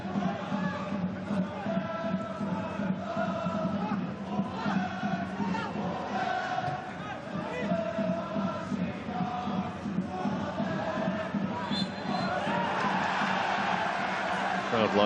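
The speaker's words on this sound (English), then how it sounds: "Crowd liked the decision as McCalmont went down." A stadium crowd at a professional football match between Central Coast Mariners and Shanghai Shenhua roars steadily, with sustained cheering and shouts under a commentator's voice throughout.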